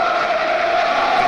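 Celtic football supporters singing together as a massed choir in their home stadium during a league match against Livingston, a dense, steady roar of voices that fills the stand without a break.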